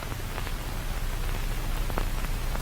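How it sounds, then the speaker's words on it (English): Steady white-noise hiss from the horror film Skinamarink fills the sound evenly, a broad, loud static wash with faint crackles and no voices or other sounds. "the white noise begins building up, creating more and more tension. It gets louder and louder when it suddenly stops."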